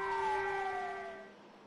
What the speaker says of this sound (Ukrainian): А у найближчій до Тайваню провінції навіть залунали сирени повітряної тривоги.